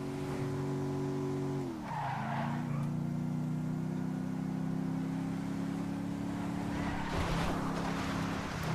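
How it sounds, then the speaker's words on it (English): Car engine droning steadily with a falling pitch shift and tire skid noise, from a car driven in the Grand Theft Auto V video game, loud and continuous with no talk. "Oh, this car does not handle very well."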